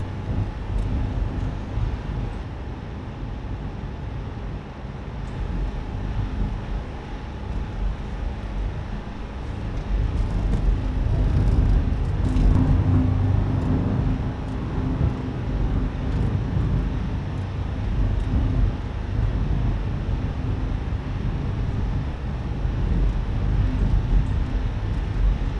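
A Cessna 172 engine in a flight simulator, throttled back to 2000 RPM for descent, drones steadily with a low continuous hum and cabin rumble, no talking over it.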